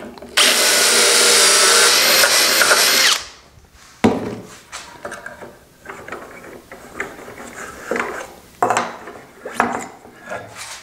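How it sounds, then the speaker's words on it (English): A power drill drilling dowel holes with a Dowelmax jig whines loudly and steadily for about three seconds, then stops, followed by scattered clanks and knocks of tool handling. "this time we're going to drill into"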